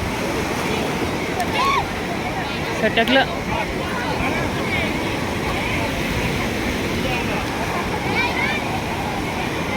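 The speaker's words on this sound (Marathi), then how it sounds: "लाटा बघा कशा उसळत आहे" Sea waves surging at a crowded Mumbai beach, a constant broad wash of surf under crowd babble, with a few nearby voices talking and calling out.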